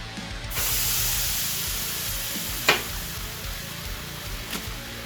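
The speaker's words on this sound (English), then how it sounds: "Into the frying pan." Steady, loud sizzling hiss of chicken frying in a hot pan, with a few brief sharp crackles.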